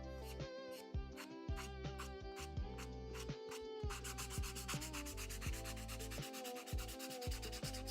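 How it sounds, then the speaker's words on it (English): A new belt sander works on a wooden cupcake, giving a steady close rubbing whir with rhythmic pulses throughout and no voices. "Got to use a new belt sander and get a little practice in with it."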